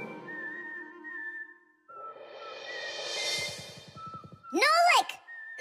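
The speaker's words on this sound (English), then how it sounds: "Just whistling a tune." A cartoon character whistles a bright tune in several short melodic phrases, broken by a pause, a rising rush of noise and a few quick chirps, with a little background voicing.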